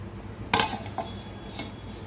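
Metal lid set onto a cooking pot of simmering shahi paneer, a short clatter followed by a smaller clink, quiet over low kitchen background noise.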